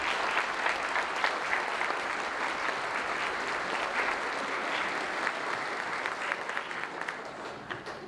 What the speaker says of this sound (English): I'd like for the people here in the audience to give them a round of applause